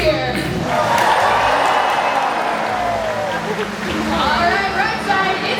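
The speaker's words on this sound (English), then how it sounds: "Let's give her a great big cheer." Live audience at a SeaWorld Orlando killer whale show cheering and clapping for the orca in a broad, lively crowd roar. An amplified voice talks over the noise at the start.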